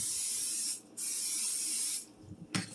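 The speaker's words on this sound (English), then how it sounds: "Spray your casserole dish." Two long hissing bursts from an aerosol can of cooking spray onto a casserole dish, each lasting about a second, then a short third spritz, close and loud.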